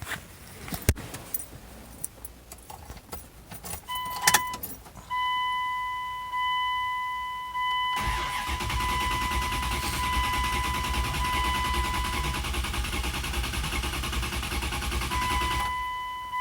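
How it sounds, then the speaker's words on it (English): A stalled car's engine cranks without catching, a sustained rough churning that runs through the second half, preceded by a few clicks and accompanied by steady electronic warning-chime tones. "Now, if we try to start it,"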